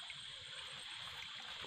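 A waterfall on the Mahendra Tanaya river pours over rocks, giving a soft, continuous rushing and trickling that sounds faint and somewhat distant throughout.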